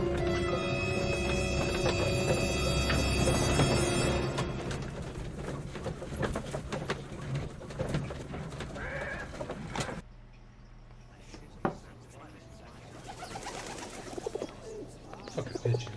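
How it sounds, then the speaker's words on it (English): Pigeons coo in the video game Sherlock Holmes: The Devil's Daughter, with soft, low repeated calls set among a busy wash of ambient game sound that drops to a quieter backdrop partway through, where a few isolated sharp noises stand out. "Fucking pigeons."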